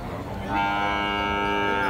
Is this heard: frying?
no